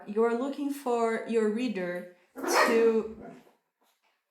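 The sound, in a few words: dog barking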